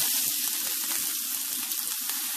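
Chopped onion, one large onion, sizzling in four tablespoons of hot oil in a pan, a steady close frying hiss with small crackles and stirring scrapes throughout, no talk.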